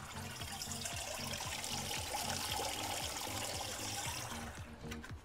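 Water draining from a bucket, a steady trickling and gurgling stream with faint bubbling that tapers off at the end.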